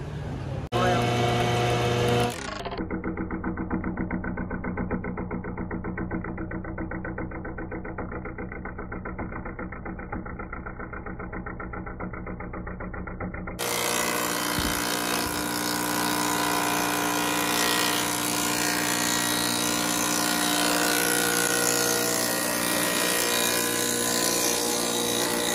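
A 3-in-1 wood planer machine fitted with four blades starts up and runs with a steady droning whine, then rises into a louder, harsher broadband roar for the second half, close and continuous.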